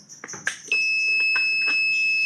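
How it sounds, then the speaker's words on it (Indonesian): An Arduino-based automatic mains failure and transfer switch alarm triggered by a generator losing its 220-volt output: a few light clicks, then a steady high-pitched electronic buzzer tone that holds unbroken to the end. "sistem akan membaca genset mengalami kegagalan pada 220 voltnya dan akan kembali alarm menyala ya"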